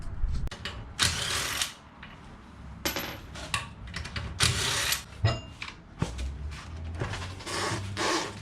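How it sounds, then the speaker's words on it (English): Wheel nuts on a VW Passat NMS raised on jack stands being loosened, sharp metallic ratcheting bursts and clinks in irregular clusters, close and loud with short pauses between, no talk. "Now, I'm going to loose these nuts."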